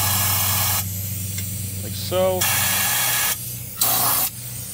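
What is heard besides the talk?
aerosol undercoating being sprayed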